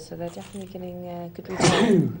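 A sneeze bursts out near the end at a live late-night poker game, loud and close, following a stretch of someone talking.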